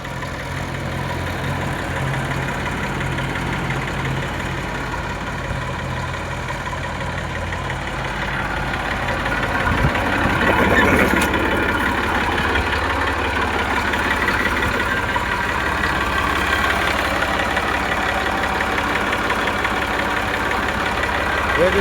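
An Eicher 380 tractor's diesel engine idles with a steady low throb that grows louder and rougher partway through, heard up close with brief voices.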